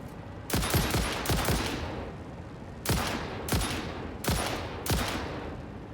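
Gunfire from the video game Satisfactory: several separate bursts of shots, about six sharp, loud reports in clusters with short pauses between them and no talking.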